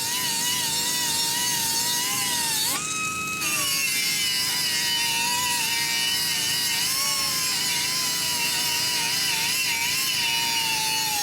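A pneumatic air tool sands down stainless steel being brought to a mirror polish, a loud steady whine with shifting pitch that briefly rises near the third second, running continuously with no talk.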